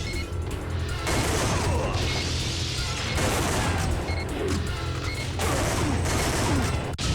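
Sustained gunfire sounds in the PS1 video game Time Crisis on the arcade route, with dense, rapid shots and crashing impacts layered continuously over several seconds. The firing is loud and busy with no speech.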